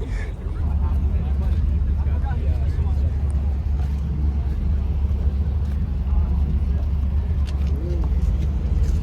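A car is moved at a car meet, its engine running as a loud, steady low drone throughout, with people talking over it.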